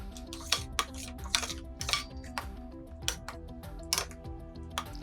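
A pot of cornflour cream mixture being stirred continuously as it thickens on the stove, with repeated spoon clinks and scrapes against the metal over a low tonal background.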